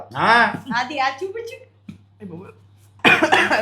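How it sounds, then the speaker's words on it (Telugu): A cough and throat-clearing, close and fairly loud, in a home kitchen where a hot meat-trotter stew is being eaten, with people talking before and after. "ఓ దగ్గు వచ్చేస్తున్నావు"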